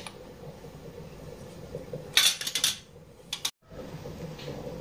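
A spoon mixing turmeric, chili powder and garlic paste for fish in a bowl, with a brief burst of clinking and scraping near the middle over low room hum, then a moment of silence.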